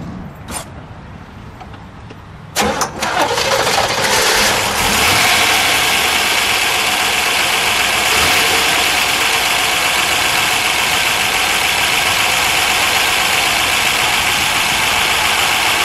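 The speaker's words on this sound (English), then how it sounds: "let's give it a fire. We'll let it idle, and then we'll give it a little exhaust note." A 1963 Chevrolet Corvette Stingray split-window with a 340 HP V8 cranks and fires after a couple of seconds, then settles into a steady, loud, close idle with a rough rumbling tone.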